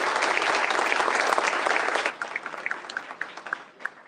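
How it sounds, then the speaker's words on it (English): A round of applause fills a gala hall, dense and loud at first, then thinning after about two seconds into scattered individual claps that fade out. "Please, let's give her a round of applause"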